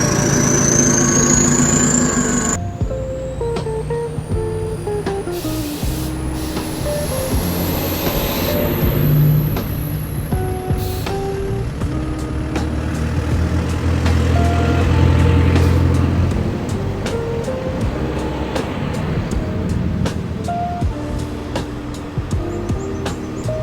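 Turbo diesel pickup truck with a closed box body, engine running steadily and loud throughout, with rising and falling harmonic tones like revving and a high whistle on top, no talking.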